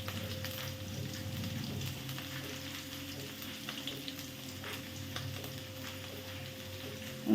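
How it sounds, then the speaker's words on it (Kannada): Chopped garlic frying in a pan with a steady, soft sizzle and scattered tiny pops, quiet and even throughout, and no one speaks. "ಫ್ರೈ ಮಾಡೋಣ. ಚಾಪ್ ಮಾಡಿ ಇಟ್ಕೊಂಡಿರೋಂತಹ ಬೆಳ್ಳುಳ್ಳಿ,"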